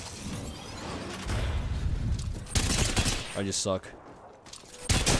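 Gun firing in rapid bursts in the video game Apex Legends, loud stuttering automatic shots with some impacts, broken by pauses, with a player talking over the shooting.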